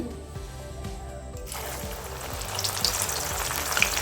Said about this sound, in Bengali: এবার আমি ছোলার ডাল দিয়ে দিচ্ছি